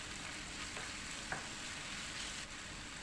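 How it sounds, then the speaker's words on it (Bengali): Kakrol (teasel gourd) with sugar frying in a pan, a quiet, even sizzle with a faint scrape of stirring midway. "ভালো করে নেড়ে চেড়ে মিশিয়ে নিচ্ছি।"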